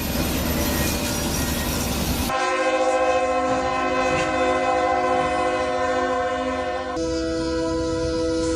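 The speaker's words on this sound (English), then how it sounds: "This so-called slow race between a steam engine Shay and a diesel GP9 was actually run at full speed" Shay steam engine and diesel GP9 locomotive running side by side at full speed, with a steady loud rumble of rolling wheels and a sustained horn-like tonal drone that shifts pitch partway through, no voices.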